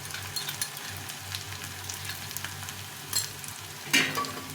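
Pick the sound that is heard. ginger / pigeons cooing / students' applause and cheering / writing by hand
ginger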